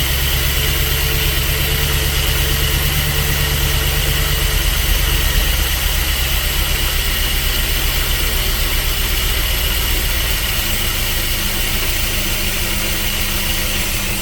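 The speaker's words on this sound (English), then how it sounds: "the carburetor needs rebuilt, but it's allowing it to sit there and idle." An old carbureted car engine with a faulty carburetor and bad accelerator pump idles after long storage, a loud steady rumbling drone with slight uneven pulsing, heard up close for the whole stretch without speech.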